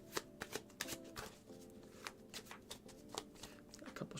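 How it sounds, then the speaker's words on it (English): Playing cards being shuffled in quick riffling bursts, a rapid series of crisp snaps and flutters, close and fairly quiet. "A couple shuffles. It's a cut."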